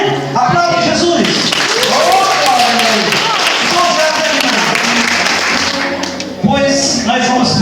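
A church congregation applauds during a Portuguese-language sermon, a dense, steady wash of clapping that runs nearly the whole time, with voices and sustained tones layered over it.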